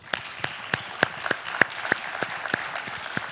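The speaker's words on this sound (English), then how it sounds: "Let's give them a round of applause." A conference audience applauds its volunteer ambassadors on the third day, sharp individual claps standing out over a steady wash of clapping for about three seconds, with no talk.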